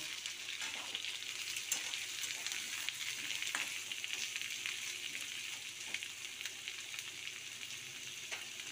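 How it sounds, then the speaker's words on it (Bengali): Potatoes and onions fry together in a pan, a soft, even, continuous sizzle with faint occasional crackles throughout, close but quiet, no voices present. "আমি কিন্তু পেঁয়াজটা আগে ভাজিনি, আলুর সাথেই আমি ভেজে নেব।"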